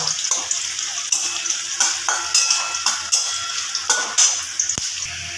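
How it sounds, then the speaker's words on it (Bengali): Onion frying in hot oil in a pan while being stirred, a continuous sizzle broken by regular scraping strokes of a utensil against the pan, close and without talk. "তো বন্ধুরা পেঁয়াজটা ভাজা হয়ে গেছে"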